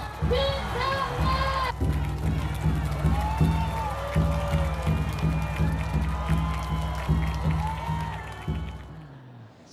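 A crowd at a Yoon Suk-yeol campaign rally in Korea cheers and chants in loud rhythmic bursts over steady drumming and shouting, sustained throughout before cutting off at the end.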